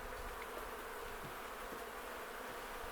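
A steady, soft drone of many honeybees buzzing around an open hive during an apiary inspection, a continuous hum with no pauses and no voices.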